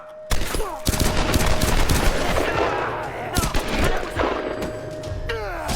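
Bursts of gunfire and heavy shooting in the Tomb Raider 2014 video game, loud and sustained, with dense rapid volleys and a few sharp isolated shots over game effects.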